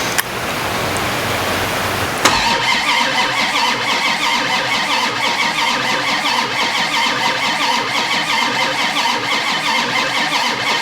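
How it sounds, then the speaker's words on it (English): A 1967 Dodge Coronet engine cranks briefly, then catches and settles into a loud, steady running roar that continues alone without pause. "This means just keep cranking. That started sounding good."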